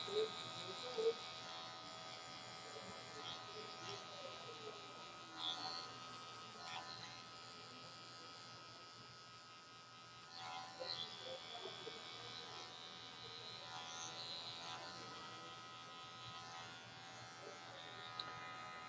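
Electric hair clippers buzz steadily through kinky hair during a high taper cut, a close, faint whine that rises and dips as the blades pass, with no talking.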